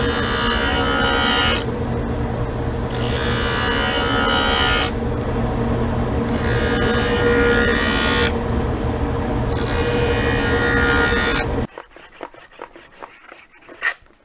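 Hockey skate blade being cross ground for profiling, long loud abrasive grinding passes broken by brief pauses, then scattered scraping and tapping once the grinding stops.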